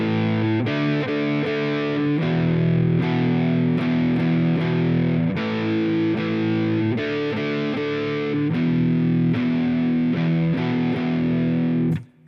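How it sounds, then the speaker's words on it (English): Electric guitar power chords played through heavy distortion, a loud, sustained riff of rhythmic chord changes that rings on for about twelve seconds before cutting off abruptly, with no voice over it. "And there I am playing it with distortion"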